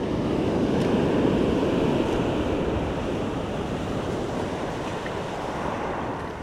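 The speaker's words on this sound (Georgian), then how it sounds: "დიდი ტალღებია." Large sea waves break and wash steadily onto the shore during a horse mackerel spinning trip, a loud continuous surf roar mixed with wind buffeting the microphone, with no talk.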